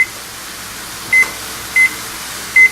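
An oven timer gives three short, bright beeps at uneven spacing as it is set, each one clear and near over a quiet room hum, with no talk.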